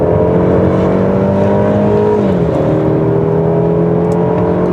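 A car accelerates hard in sport mode around the AMG Speedway track on Continental MaxContact MC7 tyres. Its engine note climbs steadily and loudly, drops with a gear shift midway, then climbs again, with no talk.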